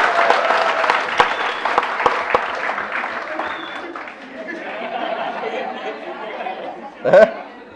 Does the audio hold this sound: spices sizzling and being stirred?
no